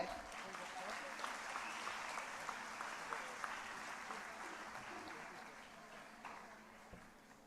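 A school annual-day audience claps and cheers for a student topper, a steady wash of applause lasting several seconds with scattered louder claps, fading slightly toward the end.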